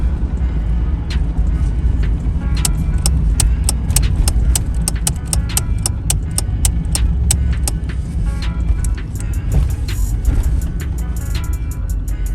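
Steady road and engine noise from inside a moving 1992 Camaro Z28, loud and constant, with sharp repeated ticks and clicks scattered throughout.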